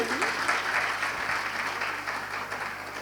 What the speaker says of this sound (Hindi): एक बार तालियां बजाओ भाई